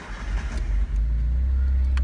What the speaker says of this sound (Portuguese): Vou ligar o carro